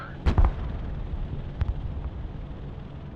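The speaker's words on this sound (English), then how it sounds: "Artillery ready to fire, sir." Artillery salvo in the military strategy game Broken Arrow, a pair of booming shots near the start with a later fainter blast, over a low rumbling battlefield backdrop.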